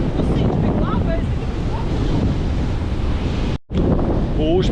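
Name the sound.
strong wind and big sea waves at the beach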